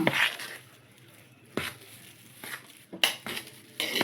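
Chicken 65 masala is being mixed in a bowl, with intermittent scraping and clattering of a utensil against the dish, separated by quiet pauses.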